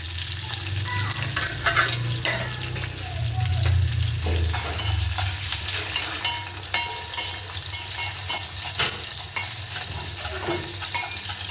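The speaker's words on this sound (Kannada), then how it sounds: "ಸೊಪ್ಪು ಒಗ್ಗರಣೆ ಹಾಕ್ಕೊಂಡೆ" Greens tempered in hot oil, crackling and sizzling steadily throughout with stirring scrapes and occasional clinks of a utensil, close and continuous without talk.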